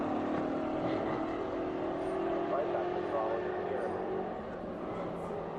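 A race car engine at Laguna Seca going back on throttle, a sustained engine roar heard from a distance and rising slightly, with a commentator talking over it.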